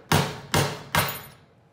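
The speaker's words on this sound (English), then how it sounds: "First, we're gonna try the screwdriver and hammer." A hammer strikes a screwdriver to knock a piece off a fishing reel: three sharp, loud metallic blows at an even pace, each ringing briefly before fading.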